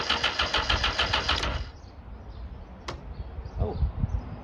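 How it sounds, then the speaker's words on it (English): A Suzuki Bandit 1200 motorcycle is cranked on its starter. A fast, whirring, pulsing crank runs for about a second and a half and then cuts off without the engine catching, followed by quieter handling noises and a single click. "Pull the clutch, press the starter,"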